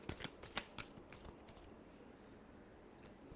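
Tarot cards being shuffled in quick, close riffling bursts during the first second and a half, then settling into a faint soft rustle.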